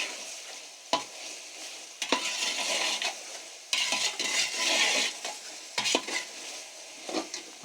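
Beef pieces being stir-fried (bhunai) in a pot for yakhni pulao: steady sizzling with repeated scraping and clinking of a spoon against the metal, in loud bursts separated by brief pauses.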